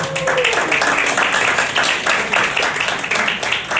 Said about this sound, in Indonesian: Bapak Ibu jangan tepuk tangan dulu